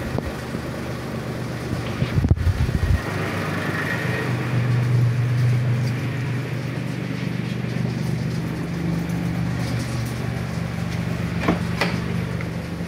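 A car engine idles steadily after a fuel pump replacement, a constant low hum running throughout, with a brief louder knock or clunk near the start.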